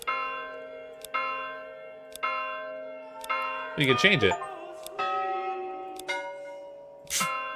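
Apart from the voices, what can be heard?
church bell ringing in Manor Lords video game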